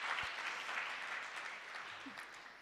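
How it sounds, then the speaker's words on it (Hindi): An audience at a gurukul gathering claps to welcome a speaker: a short, faint, even patter of applause. "तालियों से दीदी का भी स्वागत करें।"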